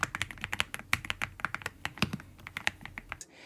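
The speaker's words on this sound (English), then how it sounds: "having a mechanical type gaming keyboard with creamy sounds" Rapid typing on a V700 wireless mechanical gaming keyboard with creamy-sounding keys, a dense run of close, crisp keystrokes alone that stops abruptly near the end.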